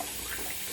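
Tap water runs steadily into a bathroom sink, a close, continuous splashing rush without talk.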